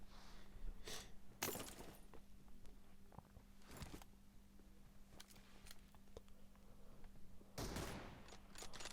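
Gunfire in PUBG Mobile, a few sharp bursts of shots spaced irregularly over a quiet low hum, with sparse clicks between them.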